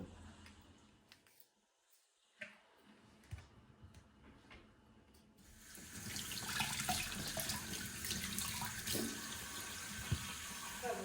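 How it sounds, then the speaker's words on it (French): Tap water runs into a kitchen sink while potatoes are washed. A few quiet knocks and handling sounds come first, then a steady, fairly soft rush of water flows from midway to the end. "on va juste, dans un premier temps, laver et peler les patates"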